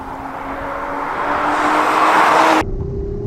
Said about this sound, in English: Powering onto the straight with that silky smooth inline 6.